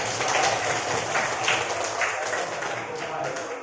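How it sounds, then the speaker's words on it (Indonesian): A classroom of students applauds a student group during a teaching practice session in Indonesia, with brisk continuous clapping that stays fairly even from start to end. "beri tepuk tangan untuk kelompok."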